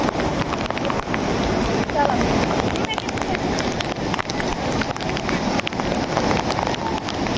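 Heavy monsoon rain pours at the Bhushi Dam waterfall in Lonavla, a dense, steady roar of falling water and wind buffeting the microphone throughout, with no break.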